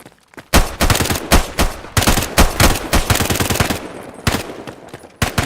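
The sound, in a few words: auto SMG gunfire in a video game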